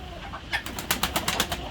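Pigeons at a loft holding runaway birds of many breeds, with a quiet stretch first and then a run of soft, evenly spaced burst-like sounds close by that suit cooing or wing flaps.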